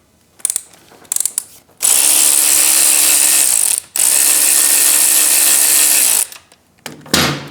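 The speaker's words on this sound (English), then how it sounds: "using our 8mm Allen hex bit, you pull off the rear." Ratchet with an 8mm Allen hex bit backing out a rear screw on a Triumph Speed Twin 1200 motorcycle: a couple of short clicks, then two long, loud, continuous ratcheting runs separated by a brief pause, close up and with no talking.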